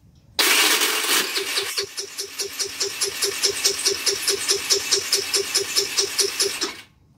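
A small scooter engine cranks over after a new carburetor is fitted, a loud, fast rhythmic chugging of the starter that runs steadily for several seconds without catching, then stops abruptly.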